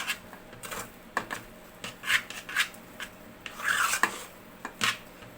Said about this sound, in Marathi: तर मी हे सर्व फेटून घेते आणि तुम्हाला दाखवते.